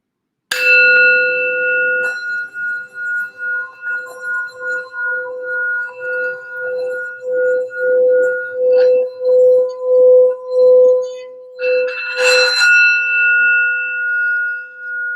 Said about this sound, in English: I'm going to do this sound bell real quick for some grounding and healing.